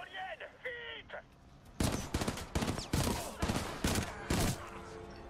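Rapid bursts of gunfire from a weapon in the Titanfall 2 campaign, loud, sharp cracks fired in quick uneven volleys after a brief stretch of quieter game sounds and faint chatter.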